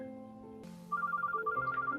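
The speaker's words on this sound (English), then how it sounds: "The sounds of the phone ringing drags me back to reality." A phone rings in the romance visual novel game Mr Love: Queen's Choice, a bright electronic ringtone trilling in a quick repeated pattern over soft background music, with no talking.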